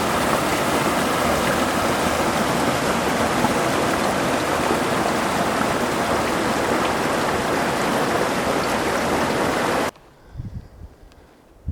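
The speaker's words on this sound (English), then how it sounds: "I've made it to this little creek near the end of Waugh Lake. Verify that it's flowing pretty good" A small mountain creek near Waugh Lake in the Sierra rushes in a steady, close, broadband wash that cuts off abruptly near the end, leaving faint rustles.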